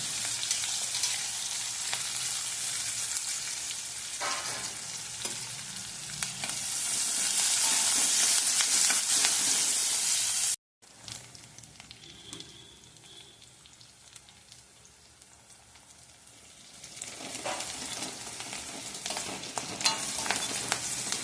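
Finely chopped onion, green chili and curry leaves fry in hot oil, a steady crackling sizzle that swells louder while being stirred, breaks off briefly, then returns and settles.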